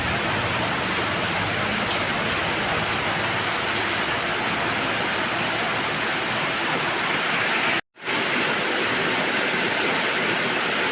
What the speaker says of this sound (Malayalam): പെയ്യാൻ തുടങ്ങിയപ്പോൾ നല്ല ശക്തിയായിട്ട് മഴ പെയ്യുന്നു